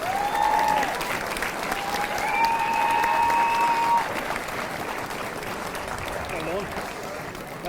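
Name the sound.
applause for the 1971 All-Ireland winning Jubilee team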